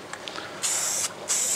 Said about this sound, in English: Make sure it's spraying.